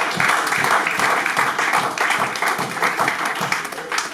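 A church congregation applauds and cheers for the Lord during a French-language sermon, dense sustained clapping filling the room steadily with a few voices mixed in.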